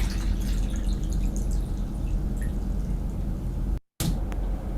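Liquid trickles and drips into a drinking glass or food container, a steady wet splashing pour at close range with a brief cutout near the end and no voices.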